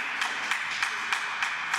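Sparse clapping from an audience at a public information meeting for a special election, a few distinct claps at regular intervals, close and fairly loud, with no talking.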